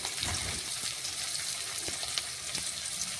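Onions sizzling in a pan over low heat with turmeric, chilli powder and salt, a steady, moderately quiet frying hiss with faint stirring, no talk.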